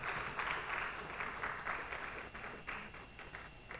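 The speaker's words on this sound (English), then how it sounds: "Please let's give him a round of applause." Faint scattered applause from a conference audience at an opening ceremony, a soft steady patter of clapping that runs through the whole stretch without voices.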